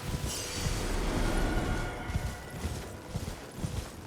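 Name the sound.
horse hooves while riding in a video game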